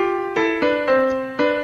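A short synthetic melody of sustained harmonic tones used in a psychoacoustic left-right ear illusion, stepping through about five notes that alternate between higher and lower pitches, steady and moderately loud with no voice.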